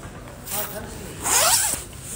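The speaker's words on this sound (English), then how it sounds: "Take my zipper down." A coat zipper pulled down outdoors at a market on a sunny spring day in Vienna, a loud close rasping zip rising in pitch over about half a second, with faint street ambience around it.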